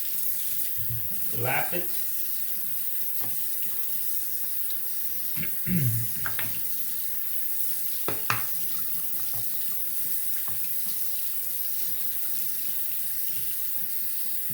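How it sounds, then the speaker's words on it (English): Tap water runs steadily over a 12K Japanese natural finishing stone to rinse honing slurry from its surface, a soft continuous splash with a few brief louder gushes and short bits of nearby speech. "I'm just gonna wet the stone again, rinse off the slurry"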